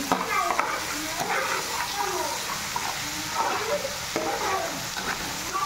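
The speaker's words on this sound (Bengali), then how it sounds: "মশলাগুলো ভাজা হয়ে গেছে।" Spices sizzle and crackle in hot oil while being stirred, a steady frying hiss with scraping sounds of a spoon against the pan.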